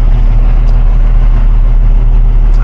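A heavy truck pulling an oversized load, heard from the cab with the windows down, gives a loud, steady, deep engine rumble and wind noise throughout, with no speech.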